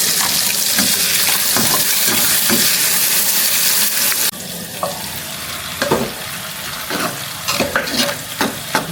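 Dried sprats fry in hot oil in a home kitchen, a loud dense sizzle for the first few seconds, then quieter crackling broken by close scrapes and clatter from stirring.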